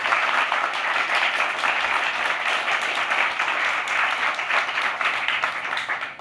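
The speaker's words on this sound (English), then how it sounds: "A round of applause for him." An audience claps continuously in a welcoming round of applause for economist Joseph Stiglitz at a club breakfast briefing. The dense, even clapping holds steady throughout and tapers slightly at the end.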